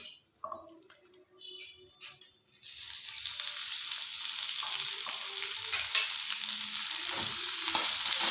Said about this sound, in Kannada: ಕಟ್ ಮಾಡಿಟ್ಕೊಂಡಿರೋ ಬೆಂಡೆಕಾಯಿ ಹಾಕೊಳ್ಳೋಣ ಚೆನ್ನಾಗಿ ತುರ್ಕೊಳ್ಳೋಣ ಸ್ವಲ್ಪ ಎಣ್ಣೆ ಹಾಕೊಳ್ಳೋಣ